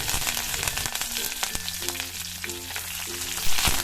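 Urad dal, dried red chillies and curry leaves fry in hot oil with a dense, close crackling sizzle and sputter, while a steady low hum runs underneath and a brief bump near the end.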